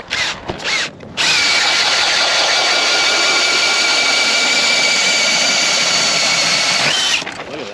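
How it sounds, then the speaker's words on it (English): Ice auger drilling a hole through lake ice in Fairmont, Minnesota, a loud, steady motorized whine that runs nearly six seconds without a break, starting and ending abruptly. "I guess I'll drill a hole for you"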